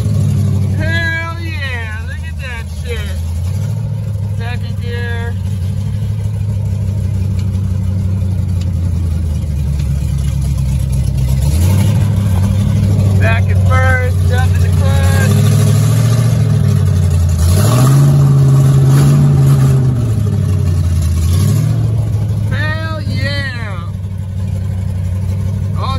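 A Mustang 5.0 with a swapped five-speed manual gearbox accelerates in second gear, its V8 engine rising and falling loudly through several revving pulls, with a voice speaking briefly over it.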